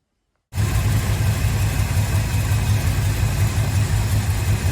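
A VK V8 Dodge ute engine starts up and settles into a steady, loud idle with an even low rumble that runs close and uninterrupted, no talking over it.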